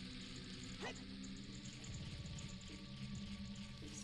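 A dog indoors gives a few faint barks and whimpers in the background, partly buried under a steady electronic hum from game audio.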